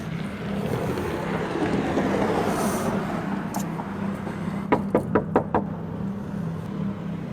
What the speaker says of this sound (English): knocks on the door and rings the bell several times looking for his friend